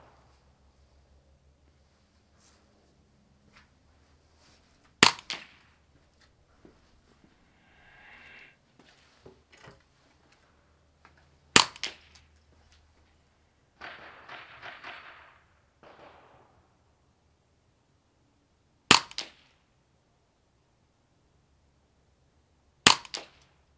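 Four sharp, loud cracks from a Ruger 10/22 .22LR rimfire rifle fired at targets, spaced several seconds apart, with quiet rustling and handling noises in the gaps between shots.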